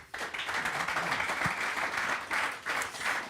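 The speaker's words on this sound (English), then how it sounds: "Give them a round of applause" Audience applause for a panel at a charity Legends football game for prostate cancer, with a steady, dense burst of clapping sustained throughout, with slight swells near the end.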